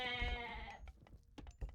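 Goats bleat once in Age of Mythology: Retold, a long wavering animal cry followed by a few short clicks and taps from the game, fairly quiet with no talk over it.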